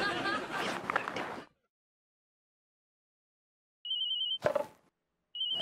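A telephone rings in a scene from the Hindi TV sitcom Bhabi Ji Ghar Par Hai: someone speaks first, then after a silent pause comes a short high electronic ring tone and a clatter, followed by another ring burst.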